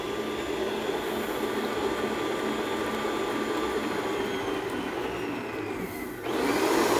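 An electric mixer runs steadily, blending a cream cheese mixture with a continuous close whirring drone, then jumps in pitch and loudness near the end as the speed goes up. No one talks.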